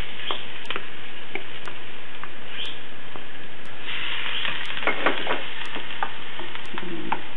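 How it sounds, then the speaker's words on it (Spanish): Onion frying in a pan for sofrito, a soft continuous sizzle with light scraping and stirring taps, plus a faint regular ticking throughout. "Aquí en el sartén vamos a hacer el sofrito. Empezamos, la cebolla"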